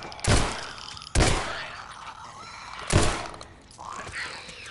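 Gunshots in The Last of Us video game, three loud sharp blasts spaced unevenly apart, each followed by a short decaying tail, with quieter game ambience between them.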